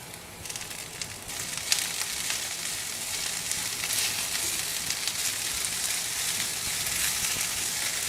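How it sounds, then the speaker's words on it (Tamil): Mint leaves sauté in a pan over a low flame, making a steady, close sizzle with a faint crackle that holds even and continuous for the whole stretch, with no talking. "சிம்லேயே வச்சு இது வதக்கணுங்க. எவ்வளோ புதினா போட்டோம் பார்த்தீங்களா, வதங்கிடுச்சு."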